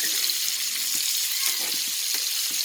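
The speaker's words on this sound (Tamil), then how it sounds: "இது மீன் ரோஸ்ட்டு, இது கருவாடு வதக்கிட்டு இருக்கேன்." Steady, bright sizzling of dried fish and fresh fish frying together in a pan, continuous hissing oil with faint soft stirring knocks underneath, close and even throughout.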